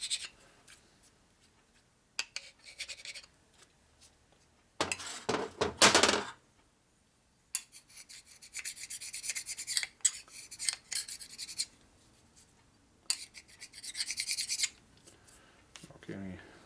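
A metal scraper rasps paint and old gasket residue off the case of a 1947 Harley EL 74ci knucklehead motor, with short bursts of gritty scraping separated by pauses, some strokes harsher and louder than others, close by.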